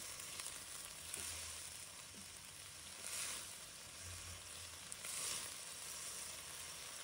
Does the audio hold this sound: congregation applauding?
no